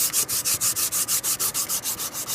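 Sandpaper is rubbed back and forth along a wooden axe handle in quick, even strokes, a rhythmic scratchy hiss repeating about six times per second close by.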